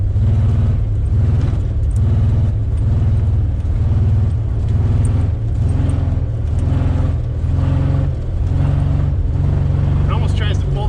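A 1961 Chevrolet Impala hardtop with a six-cylinder engine, long abandoned in a junkyard, revs hard as its rear tires spin, a loud steady low engine roar with rhythmic surges throughout, with a voice talking over it.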